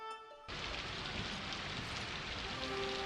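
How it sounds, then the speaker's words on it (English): Rain falls in the Daggerfall game world, starting abruptly after a short musical tone and continuing as a steady, even hiss of a downpour. "Oh, sounds like it's raining."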